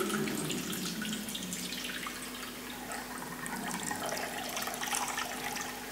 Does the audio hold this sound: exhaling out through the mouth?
no